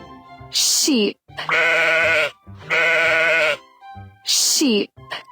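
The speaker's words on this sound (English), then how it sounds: "S-H-E-E-P. Sheep." Two long, loud sheep bleats sound close by, one right after the other, between brief higher-pitched cartoonish chirps, with no talk over them.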